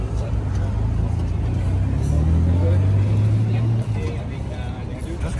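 A Porsche 959 Paris-Dakar rally car at Place Vauban in Paris, its engine a steady low rumble that swells slightly mid-way, with people talking nearby over the continuous drone.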